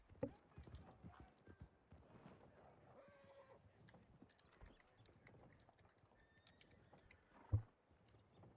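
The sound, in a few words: horse hooves galloping past in a western role-play video game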